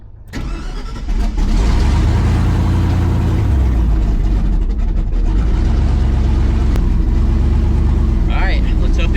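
A 1,000 HP twin-turbo El Camino engine runs loud and close, with a deep rumbling drone that shifts pitch partway through as the car drives and changes gears, and voices talk over it at points.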